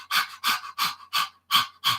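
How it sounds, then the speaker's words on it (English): Breath of fire, a yoga breathing exercise done by panting through the mouth, produces six quick, evenly spaced breaths in a rapid, close, rhythmic pattern with no talking. "breath of fire is like you're panting like a dog through your mouth"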